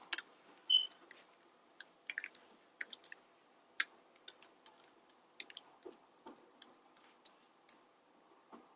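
Fingers tap on a computer keyboard in sparse, irregular clicks and short bursts, quiet and close, with no talking.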